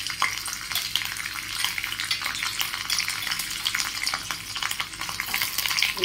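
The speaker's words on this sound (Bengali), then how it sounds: "এরপর ওই তেলে আমি পনিরগুলো হালকা করে ভেজে নেব।" Paneer pieces fry lightly in hot oil, a continuous loud crackling sizzle with popping bursts that holds steady throughout, no talking.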